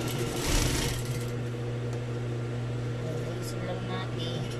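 A sewing machine stitches a dress sleeve with a steady close mechanical hum, a brief louder whir near the start, while a person talks over it.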